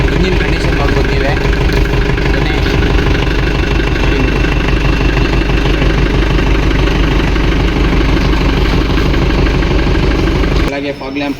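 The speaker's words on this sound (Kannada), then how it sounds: "ಗಾಡಿ ಸ್ಟಾರ್ಟ್ ಆಗಿದೆ. ಇಂಜಿನ್ ಕಂಡೀಷನ್ ನೋಡ್ಬೋದು ನೀವೇ." A Tempo Traveller van engine runs at a steady idle, loud and close, with a dense continuous rumble that cuts off abruptly near the end.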